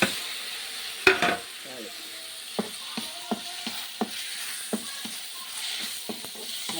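Tomatoes fry in a pan while a spoon stirs them, giving a soft sizzle broken by a run of sharp scraping knocks against the pan, roughly one every half second, close and clear.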